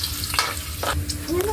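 Ginger frying in hot oil in a pan for chicken adobo, a steady close sizzle with a few soft stirring scrapes.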